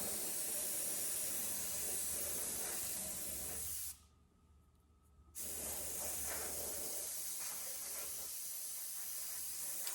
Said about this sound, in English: you go ahead and start spraying your outline